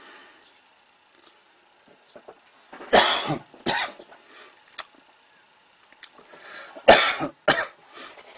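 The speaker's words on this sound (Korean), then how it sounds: "소금물을 마셔도 기침이 자꾸 나네요." A person coughs in two loud, harsh clusters of two or three coughs each, separated by quiet pauses with faint small noises.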